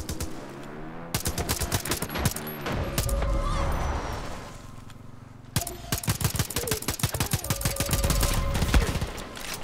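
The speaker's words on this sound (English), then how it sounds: "Who's shooting? Where are they shooting from?" Video game gunfire in Far Cry New Dawn: sharp, rapid bursts of shots cracking in quick clusters, loud and close, broken by short pauses and ringing echoes.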